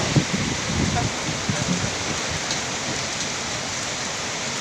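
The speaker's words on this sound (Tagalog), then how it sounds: "ang lakas ng hangin guys, pati ulan oh." Steady heavy rain pours down in a dense, continuous hiss with gusty rumbling underneath from strong cyclone winds.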